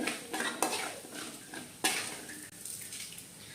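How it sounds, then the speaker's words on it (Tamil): Broken urad dal sautés in oil in a pan, with a spatula scraping and clinking against the metal in several sharp strokes over a low, steady sizzle. No voices are heard. "உடச்ச உளுந்து போட்டு வதங்கிக்கிட்டு இருக்கு"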